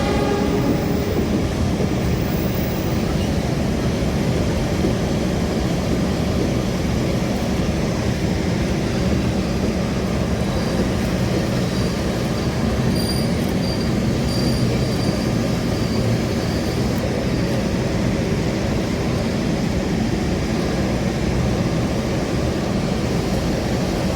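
A loud, continuous rumble of an Indonesian passenger train on rails, steady throughout with rhythmic clatter and no voices.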